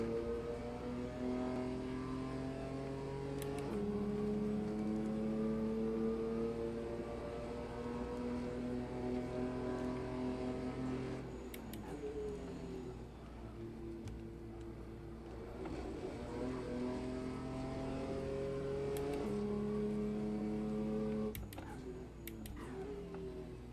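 A race car engine in the Assetto Corsa video game at Brands Hatch revs and shifts through gears, rising and falling repeatedly with short gaps between pulls, steady and moderately loud without talk.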